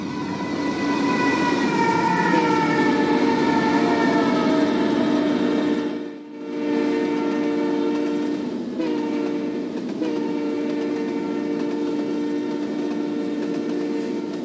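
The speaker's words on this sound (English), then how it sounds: "Hotshot 232, a super high priority intermodal train for NS" A BNSF-powered Norfolk Southern intermodal freight, Hotshot 232, with head-end, mid-train and rear-end DPUs, screams through the small town of Belton, horn sounding loudly and steadily over the rumble and clatter of passing cars.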